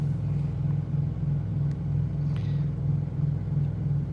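A Kenworth truck's diesel engine rumbles steadily at idle from inside the cab, a continuous low throb with a faint harmonic drone and no talk over it.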